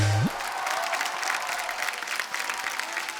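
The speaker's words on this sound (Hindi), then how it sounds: "जोरदार तालियां होनी सर चाहिए" Studio audience on a Hindi TV comedy show breaks into sustained applause, a dense steady wash of clapping with some crowd noise that holds evenly throughout, following a brief low tone at the very start.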